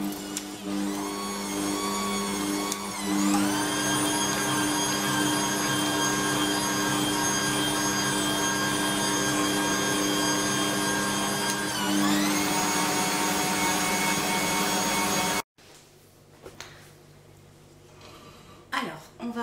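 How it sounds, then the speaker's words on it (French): An electric mixer whips cream into chantilly for a strawberry fraisier cake, giving a loud, steady motor whine that shifts pitch twice before cutting off abruptly, followed by near silence and a few faint handling noises. "Et je vais la fouetter en chantilly."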